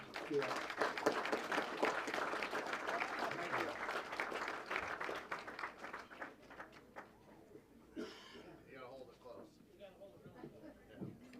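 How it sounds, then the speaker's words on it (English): An audience at an awards banquet in a lodge claps for several seconds, fairly quiet and distant. The clapping fades out partway through, followed by scattered noise and murmuring. "So I think we owe a huge round of applause to Mike Vassar and Jenny."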